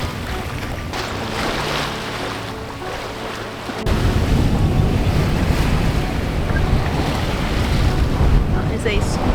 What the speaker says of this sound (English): That is a squally front.